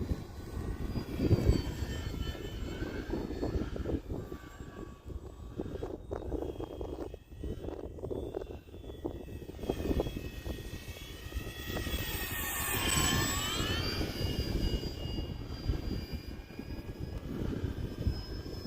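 An Arrows F4U-4 Corsair RC model plane in flight at about three-quarter throttle, its electric motor whining steadily overhead with gentle pitch sweeps as it passes, continuous and moderately loud with wind noise.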